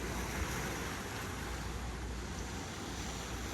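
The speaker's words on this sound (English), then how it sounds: "I'll be quiet for a second so you can just hear the ocean." Continuous ocean surf washing and roaring steadily, broad and hissing, with no voices, heard from nearby.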